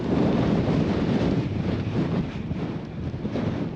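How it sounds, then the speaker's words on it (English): Strong wind roars continuously across an exposed mountain summit in the Cairngorms, loud and buffeting the microphone with slight surges and dips. "Windy summit."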